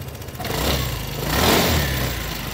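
A 2007 Piaggio MP3 250cc three-wheel scooter engine running loudly up close, with a steady hum that swells as it revs around the middle before settling back.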